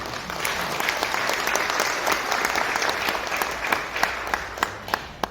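Audience applause of thanks at an international academic forum in a Seoul hotel ballroom, a steady wash of many hands clapping that thins toward the end into a few sharper, scattered claps.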